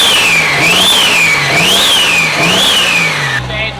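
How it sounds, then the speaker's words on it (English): 2JZ-swapped Scion FR-S engine revving with turbo and exhaust: loud, close mechanical roar rising and falling in three repeated rev cycles, with a high turbo whine sweeping alongside, easing off at the end. "I can hear the turbo over the exhaust"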